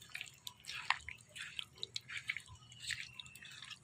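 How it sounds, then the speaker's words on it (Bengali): Fish is hand-mixed with coriander powder and mustard oil, giving soft wet squishes and small sticky clicks in an uneven rhythm, close and quiet, with no talking. "এবার আমি ভালো করে মাখায় নেব।"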